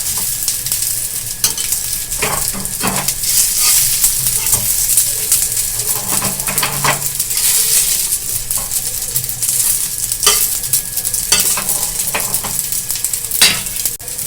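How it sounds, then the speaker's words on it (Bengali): Cakes of raw chickpeas and semolina fry in a pan without oil while a spatula presses them down, giving a loud, continuous sizzle with repeated soft scrapes and taps and no voices. "চেপে চেপে আর একটু ভালো করে ভেজে নিচ্ছি"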